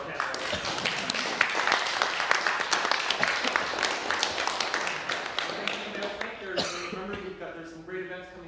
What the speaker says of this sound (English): So it's a great last round of applause for our audience, for our panel.